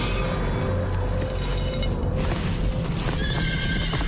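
Horses whinny loudly while hooves clip-clop steadily on hard ground, a busy, close mix of neighs and hoof beats with no talking.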